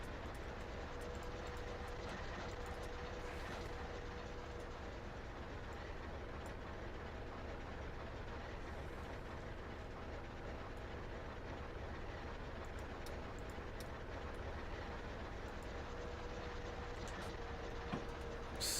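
A train rolls steadily along the rails in Train Simulator on the Adriana County Terminal Railroad route, a constant low rumbling drone with faint clicks, heard alone without talk throughout.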